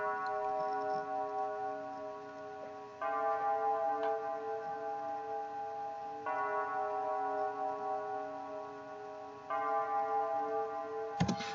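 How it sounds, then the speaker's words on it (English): A bell-like synthesized melody played in FL Studio, with sustained ringing tones re-struck roughly every three seconds in a slow, dark pattern, clean and alone. "So a bell, it sounds like that,"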